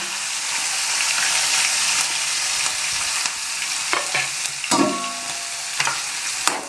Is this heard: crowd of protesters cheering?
no